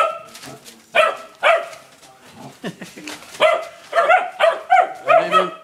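Several Newfoundland dogs bark in quick, repeated bursts, close by and loud, with a few yelps and whines between barks.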